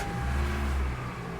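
CNG-fuelled Lincoln Navigator engine turning over and catching, a short low rumble that swells briefly and then settles to a quieter idle, close and alone.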